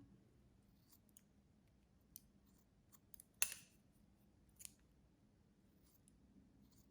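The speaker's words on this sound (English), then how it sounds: "That noise, isn't that the best, that cutting sound?" Scissors snip through hair during a pixie cut in a quiet salon, a few faint, sparse crisp clicks with one sharper cut standing out, close but soft.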